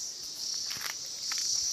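A cicada sings in trees with a steady, high, buzzing drone at moderate distance, while a few soft rustles and footstep-like taps pass underneath.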